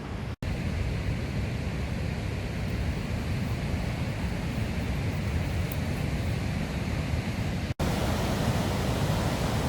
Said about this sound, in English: I love hearing the roar of the water.